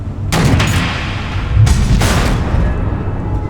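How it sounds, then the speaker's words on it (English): Missile explosions in the video game Batman: The Enemy Within, two loud booming blasts a second apart over a deep rumbling roar that lingers close and heavy. "The missiles."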